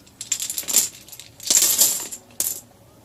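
Sewing buttons poured into a pile in three quick clattering bursts of small hard clicks, close and fairly loud with short pauses between, no talking.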